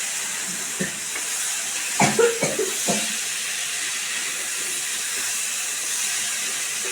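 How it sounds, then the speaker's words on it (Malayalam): Chopped mango tipped into a hot spiced pan brings a steady sizzling hiss. Several short clattering bursts land around the two-to-three second mark, and the frying hiss continues after them. "നമുക്കിനി അതിലേക്ക് അരിഞ്ഞു വെച്ച് മാങ്ങിടാം."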